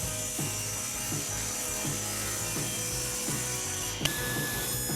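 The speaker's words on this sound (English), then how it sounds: "We start by cutting some blocks of wood 3/4 of an inch by 3/4 of an inch." Small 3/4-inch blocks of wood are cut with a saw, steady rhythmic rasping strokes about twice a second, close and moderately loud, with a sharp knock near the end.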